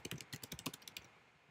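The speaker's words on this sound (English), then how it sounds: "And then you can type your message" Rapid, even keystrokes on a computer keyboard while typing an email message, about a dozen quiet close clicks in a quick run before falling silent.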